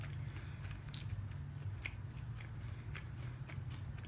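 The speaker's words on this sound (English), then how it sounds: "Let's try a bite." Fried honey walnut shrimp from Panda Express being bitten and chewed up close, a series of crisp crunches and moist chewing sounds over a low background hum, with no talking.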